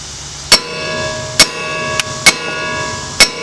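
Five loud metal hammer blows ring out at uneven intervals, each a sharp clang with a short ringing tail, knocking a car ball joint out of its socket during a lower control arm replacement.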